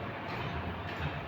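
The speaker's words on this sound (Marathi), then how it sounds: "हे का ताईनं दाबलं आपल्या बटन आपली झाली मग रेल्वे वगैरे सुरू." At a science museum exhibit, a model train runs with a steady, faint rolling rumble and light clatter, continuous across the short moment with no voices.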